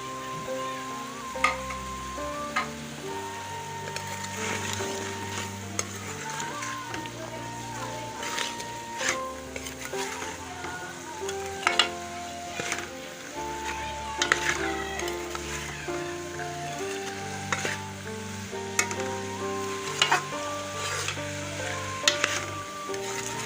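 Black chickpeas and fresh coriander stirred in a hot pan, a steady soft sizzle with repeated scraping clinks of the spoon, fairly quiet, while someone talks over the cooking.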